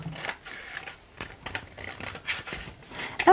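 Scissors snip steadily through paper while cutting out an iris flower piece, a close series of crisp, rhythmic cuts and rustles with no talking.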